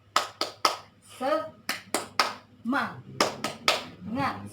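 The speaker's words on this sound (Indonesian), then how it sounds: "Ayo anak-anak kita tepuk semangat dulu ya" A class of children and their teacher in an Indonesian primary lesson perform a rhythmic 'tepuk semangat' clap, sharp patterned claps in quick groups alternating with chanted voices, close and lively.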